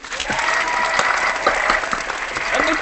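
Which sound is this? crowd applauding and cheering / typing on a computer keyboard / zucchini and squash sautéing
crowd applauding and cheering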